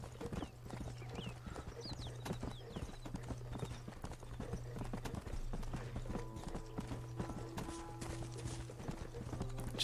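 Hooves of a Hungarian half-bred horse clip-clop steadily in Red Dead Redemption, a close, continuous rhythmic walking beat with a low steady hum beneath and occasional faint bird chirps.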